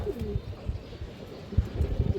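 A big pair of Lal Lepa Chila fancy pigeons, a bronze male and a female, cooing in low repeated throaty pulses close by, with no talking.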